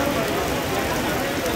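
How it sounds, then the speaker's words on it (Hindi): Rain falls steadily over a livestock market in Kurali, Punjab, making a dense, even hiss that continues without a break through the short clip, with faint voices in the background. "देखिए बरसात होने लग चुकी है मंडी में"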